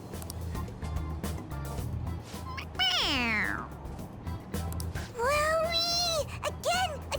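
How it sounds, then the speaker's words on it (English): A toy cat squeezed on its head in Persona 5 Royal lets out two loud, close meows, a falling one then a wavering longer one, over a low background murmur. "It meows when you press on its head."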